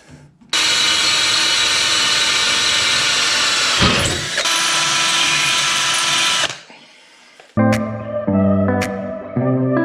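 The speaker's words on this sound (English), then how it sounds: "the last thing to do is get a couple of these holes drilled so we can then secure the shelf in place." Power drill boring holes to fix a shelf in a workshop, a loud continuous whine with a brief dip midway, then stopping, followed by a short musical tail.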